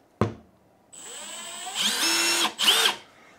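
A Milwaukee M12 Gen 3 FUEL cordless impact driver runs in self-tapping mode: a short click, then a high motor whine that ramps up into a loud hammering burst, stops, and fires again briefly.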